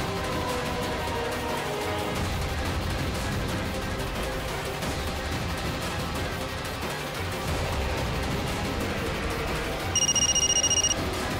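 A telephone rings near the end, with bright electronic ring tones cutting in for about a second over loud, dense dramatic music, with no answer.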